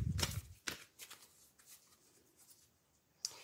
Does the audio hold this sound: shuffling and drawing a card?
yes